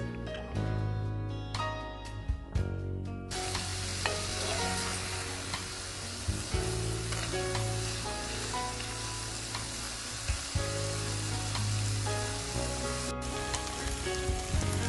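Pork sizzles and fries in a pot for kimchi stew, a dense steady crackle with occasional stirring clanks and scrapes, close and moderately loud with no talking.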